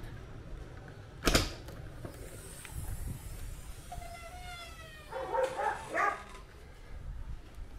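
The rear door of a converted ex-ambulance van creaks open, with a thump near the start followed by drawn-out squealing hinge tones and a louder burst of creaking toward the end, heard alone.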